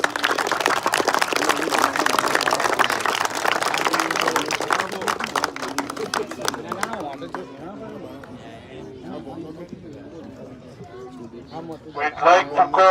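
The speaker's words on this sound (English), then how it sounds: "Round of applause for them," A crowd at a league opening ceremony gives a round of applause for a newly introduced team, dense clapping for the first several seconds before it thins out, with people talking and an announcer's voice over and after it.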